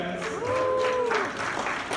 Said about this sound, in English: We didn't get one of those rounds of applause